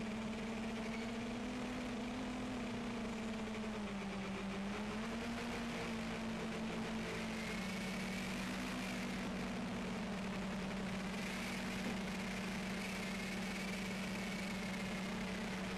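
An MJX Bugs 3 quadcopter drone drones past slowly outdoors near trees, a steady buzzing motor whine holding a constant pitch with slight wavering, fairly close and heard alone without talk.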